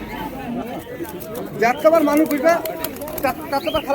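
Pigeons coo and flutter at a busy pigeon market in Beldanga, Murshidabad, with a crowd chattering nearby and soft calls rising and falling under the babble.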